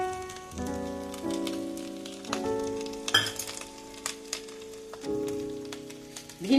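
Tomato sauce hits fried rice in a hot pan for Chinese fried rice, a soft steady sizzle with occasional clinks of a spatula against the pan, close and moderately quiet.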